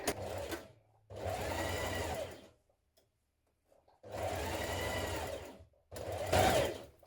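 A sewing machine stitches a trouser dart in three separate bursts of steady running, with short pauses between them and no talking.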